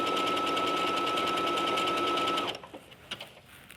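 A sewing machine runs a steady, continuous seam on knit fabric along the 5/8 inch line, loud and close for about two and a half seconds before stopping abruptly, leaving a few faint clicks and handling sounds.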